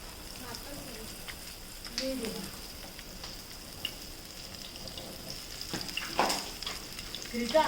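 Semolina-coated pomfret frying in spattering oil, a soft steady sizzle with occasional louder pops and crackles, rising near the end, while people talk faintly in the background.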